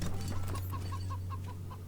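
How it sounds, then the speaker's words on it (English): A cybernetically enhanced chicken in Wasteland 3 clucks in a quick, evenly spaced series of short notes over a steady low hum, fairly faint and without talk. "The cyborg chicken."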